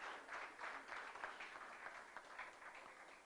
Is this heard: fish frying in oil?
no